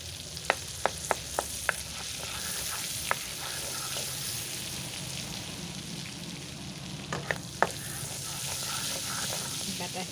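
Butter sizzles in a pan for paneer butter masala, a steady close frying hiss broken by sharp scraping clicks from a stirring utensil, with a few clustered taps early and late.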